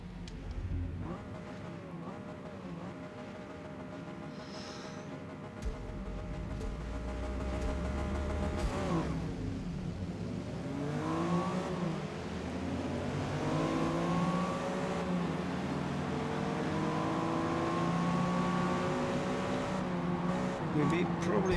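A race car engine in the racing video game Forza Motorsport starts low, then revs up and climbs through rising gear pulls, loud and sustained, with someone talking over parts of it.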